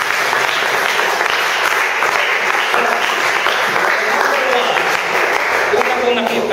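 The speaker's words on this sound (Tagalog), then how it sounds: "Isang masigapo muling palakpak." Sustained applause from a church congregation fills the room, dense and steady throughout at close range, with a voice faintly present underneath.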